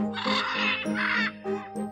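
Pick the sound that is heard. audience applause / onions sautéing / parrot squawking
parrot squawking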